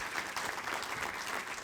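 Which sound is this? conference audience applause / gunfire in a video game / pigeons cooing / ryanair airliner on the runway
conference audience applause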